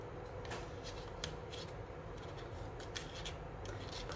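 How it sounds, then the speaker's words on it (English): Paper craft flap being folded down for an intention balloon, a soft close rustle and crinkle of paper with a few light taps, without talking. "I'm going to fold that down."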